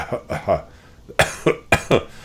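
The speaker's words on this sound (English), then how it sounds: "The troll coughs abruptly and rather unconvincingly and looks away." A narrator voices a troll character with a string of short, abrupt, deliberately fake coughs, about six bursts in quick uneven succession, close and fairly loud.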